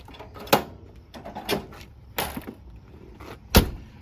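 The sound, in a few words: camper doors being closed and locked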